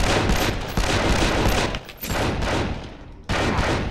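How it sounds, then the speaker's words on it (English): M4 carbine gunfire in 24: The Game, with loud, dense bursts of rapid automatic shots broken by short gaps. "now they were using the M4 carbine, which, as far as I know, that's the real weapon"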